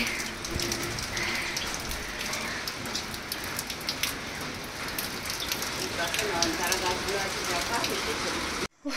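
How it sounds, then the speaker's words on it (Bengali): Steady rain pours outside, a dense continuous hiss and patter at even loudness that cuts off abruptly at the very end, with no talking. "পুরো বৃষ্টি পড়ে"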